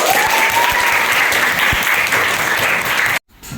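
Classroom of students applauding after finishing a quiz, a steady dense wash of clapping for about three seconds that cuts off abruptly near the end.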